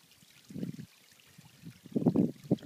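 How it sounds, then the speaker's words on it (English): A small disappearing stream trickling into a sinkhole in karst terrain, soft gurgling bursts of water heard close and faint in short irregular pulses. "Now here is one of the disappearing streams flowing in from the north, right here."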